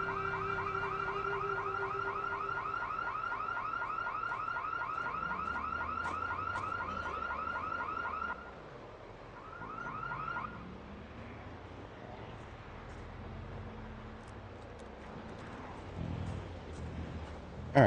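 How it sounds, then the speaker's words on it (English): A car alarm in the video game Project Zomboid blares a loud, steady electronic warble for about eight seconds, drops out, returns briefly, then fades beneath quieter ambient game noise. "They're going to be attracted to that car alarm."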